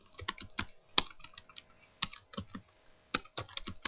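Typing an email on a computer keyboard during an HTML form tutorial, with crisp close key clicks in quick irregular clusters separated by brief pauses, no speech.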